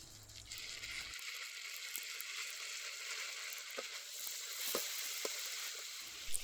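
Soy sauce goes into a hot pan of frying dragon chicken and capsicum, giving a steady bright sizzle with a few faint stirring clicks.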